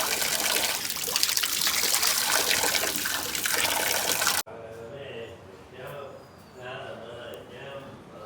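Clean water gushing with force at a hidden spot in Ratnagiri, Konkan, as a loud, dense rushing stream that cuts off abruptly, followed by people talking over quieter background sound.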